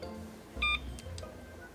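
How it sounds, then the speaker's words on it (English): Car phone dialing tones sound in an airplane cabin as a quick burst of stacked electronic beeps, held for about a fifth of a second, over a low steady cabin hum. "What's with the car phone?"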